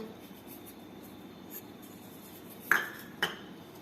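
A spoon works through puran poli filling in a vessel as dry ginger and cardamom powder are stirred in, with faint scraping and then two sharp metallic clinks close together near the end.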